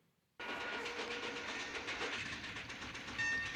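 A train runs steadily in the 1962 Western film The Man Who Shot Liberty Valance, a continuous rumbling, clattering roar that starts abruptly and holds loud, with a faint whistle-like tone near the end.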